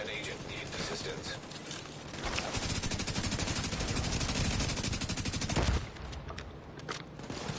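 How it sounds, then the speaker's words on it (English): Sustained rapid gunfire from The Division 2, a dense automatic burst running several seconds under a voice talking, with a brief lull near the end before shots resume. "you're shooting at me from around the corner."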